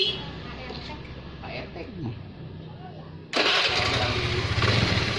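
A carburetted Honda Vario 110 scooter engine is started after a stretch of quiet talk, catching abruptly and settling into a loud, steady idle that fills the rest of the clip.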